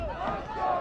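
Kearsarge fans at a boys soccer game chant together in a rhythmic crowd cry, a brief, fairly distant swell of many voices.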